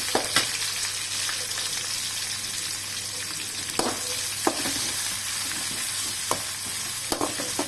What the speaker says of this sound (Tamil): ஒரு பெரிய வெங்காயம் போட்டு நல்லா வதக்கணும்.